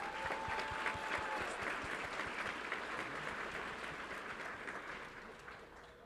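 Audience at a Fort Worth ISD school board meeting applauds two coaches, a sustained round of dense clapping filling the room, fairly distant and gradually tapering near the end.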